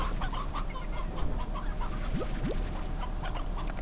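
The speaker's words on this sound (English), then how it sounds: "We have a lot of extra chickens." Chickens cluck steadily in the video game Slime Rancher, a dense flock of hens murmuring and clucking together at moderate volume throughout, with no talk.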